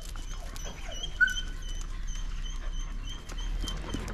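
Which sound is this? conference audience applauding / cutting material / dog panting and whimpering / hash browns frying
dog panting and whimpering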